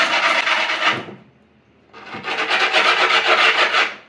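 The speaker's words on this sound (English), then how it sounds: "this is where the back side of the knife is going to scrub at the edge" The back of a knife scrubs along the edge of skateboard griptape in two close, loud rasping bursts of rough scraping, separated by a short pause.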